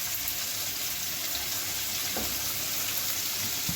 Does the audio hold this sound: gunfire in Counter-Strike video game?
no